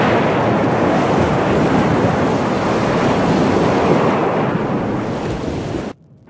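Ocean waves surging onto shore, a loud, steady wash of surf roar mixed with wind buffeting the microphone, continuing for about six seconds before cutting off abruptly.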